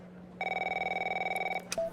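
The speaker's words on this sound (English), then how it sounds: "Can't be here for 5 minutes before I get a phone call." A telephone rings in the video game The Operator, one short burst of rapid electronic trilling close and clear, cut off abruptly and followed by a click, with no one talking.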